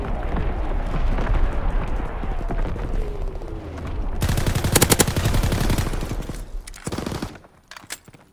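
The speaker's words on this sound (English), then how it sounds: "Incoming enemy artillery." Heavy wartime gunfire and artillery barrage in the video game Call of Duty WW2, a dense roar of rapid shots and booming blasts that swells loud in the middle and breaks into scattered bursts near the end.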